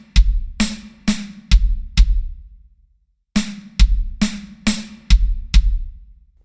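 A linear triplet pattern played on an acoustic drum kit, alternating snare hits with bass drum strokes in two quick bursts of crisp, evenly spaced notes separated by a short pause, loud and close with no voice.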